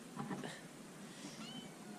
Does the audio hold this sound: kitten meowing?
yes